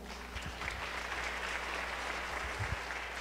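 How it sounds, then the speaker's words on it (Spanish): A church congregation claps steadily for a few seconds, a dense, even patter of hands from many people indoors. "¿Por qué no le das un aplauso al Señor?"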